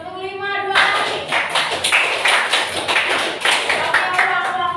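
Students in a vocational high school class clapping hands in a set rhythm pattern, a series of loud, close claps grouped in short bursts after a brief spoken instruction at the start.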